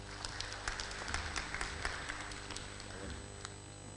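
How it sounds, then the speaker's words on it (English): Audience clapping for a presenter at a live-streamed talk, a dense patter of many hands with individual sharp claps popping out, steady and sustained for the whole stretch at moderate loudness. "Please, a round of applause for him."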